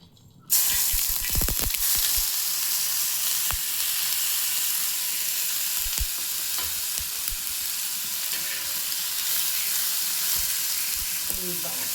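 Onions frying in hot oil for a masala omelette give a steady, close sizzle with a few louder crackles and spatters near the start, continuing evenly throughout without any talking.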